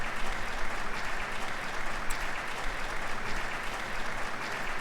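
A theater audience applauds at the close of an operetta in Trails of Cold Steel, a dense, continuous wash of clapping that holds steady throughout with no voices.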